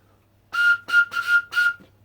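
Four short, clear blasts on a homemade bramble wood whistle in quick succession, each a bright steady tone, close and loud.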